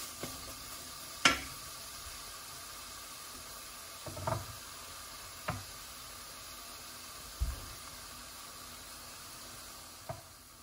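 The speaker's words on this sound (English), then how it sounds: "And just nicely saute this till they become a little translucent" Chopped vegetables sautéing in a pan until translucent, giving a faint, steady sizzle broken by a handful of soft clicks and stirs spaced a few seconds apart.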